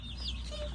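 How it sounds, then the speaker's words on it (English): Barred hens make soft, brief clucking sounds close by, with a low steady background beneath them. "These little girls, these are my barred ones. These are my hens."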